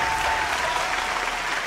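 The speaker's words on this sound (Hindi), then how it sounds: "जोरदार ताली बजा डालो हो भैया।" Audience applause at the grand finale of a dance competition show, dense steady clapping from a large crowd, loud and continuous.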